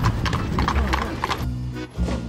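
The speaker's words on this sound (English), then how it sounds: "Horses." Horses clip-clopping along a city street in Gyumri's main square, a quick run of close, sharp hoof strikes in the first second and a half, with a whinny and people talking around them.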